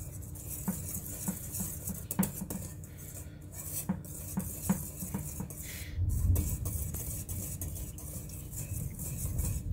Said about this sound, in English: We'll whisk this all together.